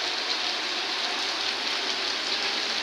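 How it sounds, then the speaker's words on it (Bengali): Continuous heavy rain falling in Noakhali, Bangladesh, forms an even, dense hiss with no breaks, steady and fairly loud throughout, with no voices. "এখনও টানা বৃষ্টি শুনতেছে"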